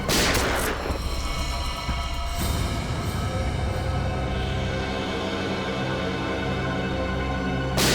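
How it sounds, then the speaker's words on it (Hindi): A few sharp gunshot blasts ring out at a party, one at the start, another a couple of seconds later and one at the end, each followed by a ringing echo. "दया गोली चलाओ उस पर, चलाओ गोली"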